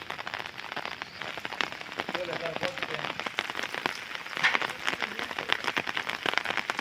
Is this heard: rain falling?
yes